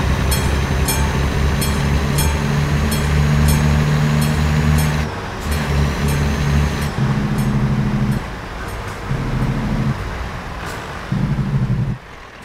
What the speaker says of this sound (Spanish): Está sonando el tren, pero no veo vida del tren por aquí.